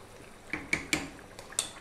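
Chunky pieces of carrot and potato dropped into a pot of traditional British lamb stew, four or five quick separate thuds and clinks close by, fairly soft, with no talk.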